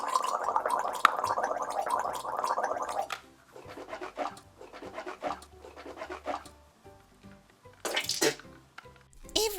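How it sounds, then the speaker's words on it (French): A mouth is rinsed with mouthwash and then spat out in a pretend dentist toothbrushing game, with a sustained gargling swish followed by sputtering wet splashes and drips. "On se rince simplement la bouche avec et on recrache."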